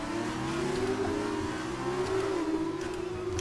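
Formula race car engine in F1 2019 holding a high, steady whine with slight pitch wavers as it runs on through a lap, loud and continuous with no talk.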